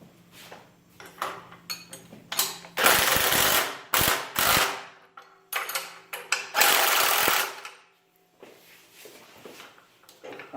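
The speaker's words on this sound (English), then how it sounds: "Next step in the procedure is to tighten up a little bit on the bolts securing the load cell" Bolts securing load cells on a lift table scale are tightened, with bursts of ratcheting and metallic mechanical rattling separated by brief pauses, close and fairly loud.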